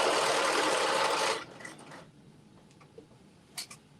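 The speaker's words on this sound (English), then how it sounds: "I'm actually sewing all the way up to the pocket and then back stitching" A sewing machine stitching a jumpsuit seam up to the pocket, a fast steady whirring run for over a second that stops abruptly, followed by a few faint clicks and taps.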